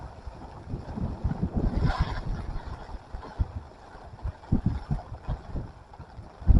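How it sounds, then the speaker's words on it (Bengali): Strong gusting wind drives rain against a handheld umbrella outdoors, producing loud, close buffeting rumbles that rise and fall in uneven bursts. "বাতাস দেখেন, বাতাসের সাথে বৃষ্টি, ওরে বাবারে, ছাতি ধরে রাখতে পারতেছি না, কি বাতাস!"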